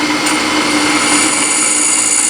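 A milling machine drilling through metal, a steady high-pitched whirring drone with constant grinding, close and loud with no pauses.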